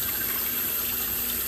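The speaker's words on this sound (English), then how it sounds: "put two cups of water" Water is poured into an Instant Pot for cooking chicken drumsticks, a steady close gushing stream that stays even for the whole brief moment.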